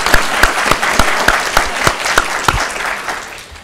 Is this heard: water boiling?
no